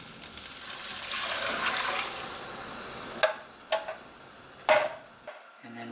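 Broth poured into a pot for saffron rice with coconut, a continuous hissing pour that stops, followed by a few short splashes and clinks.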